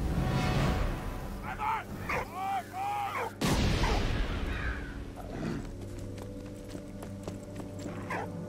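An artillery cannon in Valiant Hearts: The Great War fires with a sharp, loud boom midway through, following horse-like whinnies and clopping, with rumbling game ambience and a brief voice around it.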